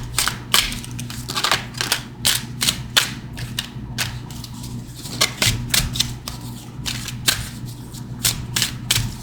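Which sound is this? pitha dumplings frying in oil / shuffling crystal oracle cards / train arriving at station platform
shuffling crystal oracle cards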